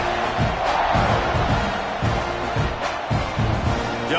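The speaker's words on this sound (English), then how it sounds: "this crowd is feeling themselves after that last drive" Stadium crowd at a football game roaring and cheering steadily after a scoring drive, a dense, continuous wall of distant voices with rhythmic pulses and chants, while the kickoff unit takes the field.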